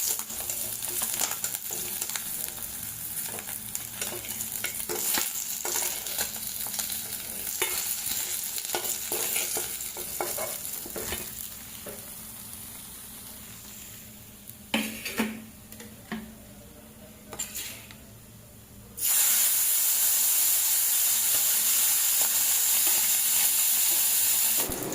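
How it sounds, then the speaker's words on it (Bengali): Small puti fish fry in hot oil, giving a dense close sizzle with frequent clicks of turning and stirring, easing into sparser spatters before a loud, even hiss returns. "তাই চলো আগে মাছগুলো ভেজে নিচ্ছি।"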